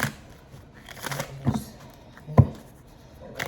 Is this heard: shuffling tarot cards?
yes